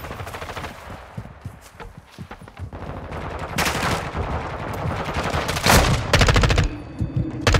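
Rapid automatic gunfire from a Call of Duty: Modern Warfare II match, loud bursts and fusillades of shots in clusters with scattered single cracks and footsteps between, building toward the end.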